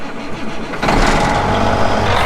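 A 510-horsepower tractor engine cranks briefly, then fires and settles into a loud, steady diesel rumble at close range.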